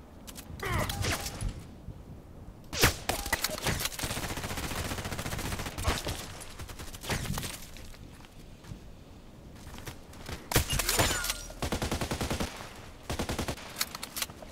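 Sniper rifle shots ring out in a multiplayer shooter game, several sharp cracks spaced apart amid continuous battle noise and other gunfire, fairly loud and close.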